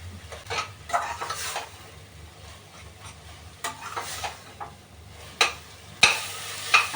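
Onion sautés in butter and oil in a pan with a soft sizzle, broken by spoon stirs and a few sharper metallic clinks and scrapes close by.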